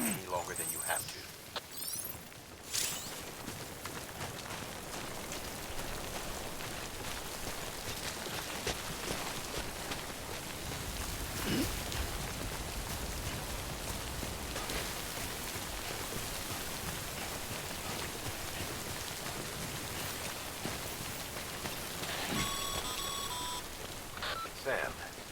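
Timefall rain in Death Stranding pours as a steady dense hiss of rainfall, continuous and fairly loud, with a voice speaking over it and a few faint electronic beeps near the start and end.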